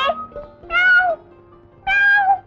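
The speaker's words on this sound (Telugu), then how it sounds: "మ్యావ్ మ్యావ్ అంటున్నావు" A cat meows three times, close and clear, with short pauses between the drawn-out calls.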